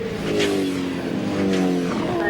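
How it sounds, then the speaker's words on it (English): V8 Supercar race cars at Barbagallo Raceway in the 2002 championship, loud close engine roar with shifting, falling pitch as cars brake hard and downshift into a corner, no talk. "Paul Morris has a run along the inside. But David Menard hard down into brakes"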